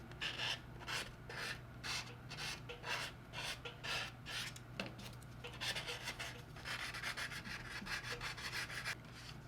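Steady rhythmic rasping of a sanding stick rubbing back and forth across a plastic scale model kit, close up, with no talking.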